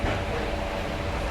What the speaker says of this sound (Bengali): ট্রেনটাই এইমাত্র ছেড়ে দিয়েছে